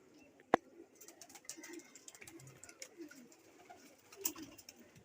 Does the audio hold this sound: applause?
no